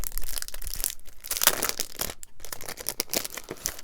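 A die-cutting machine pressing through a plain paper heart, a close crunching and crackling grind with uneven bursts and brief pauses, no talking.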